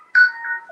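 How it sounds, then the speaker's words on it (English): A short, clear phone ringtone chirps loudly in a quiet room during a career talk, a single bright electronic tone sequence. "I'm sorry, so there was a phone call."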